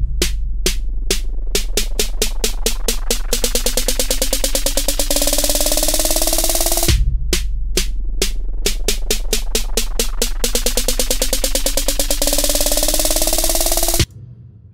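Synth sound layered over a downsweep sub bass, programmed in FL Studio for EDM: a loud, steady low sub runs under repeating synth hits that speed up into a rising buzz, the whole pattern playing twice before cutting off.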